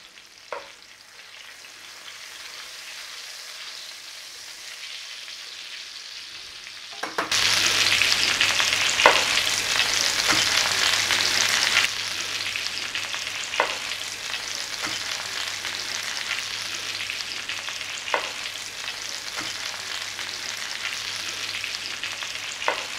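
Sirloin steak, cooked sous vide first, pan-frying in butter with dried thyme, giving a loud, steady broadband sizzle that jumps up sharply partway through and continues with occasional pops and crackles, no voices.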